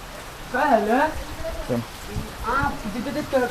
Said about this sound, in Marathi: पाऊस भरपूर आलेला आहे